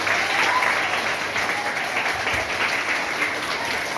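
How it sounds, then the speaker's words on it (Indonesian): Audience at a Malaysian primary school event applauding the teachers, a sustained, fairly loud round of mixed clapping from a crowd that continues evenly from start to finish. "Beri tepukan dekat cikgu-cikgu semua."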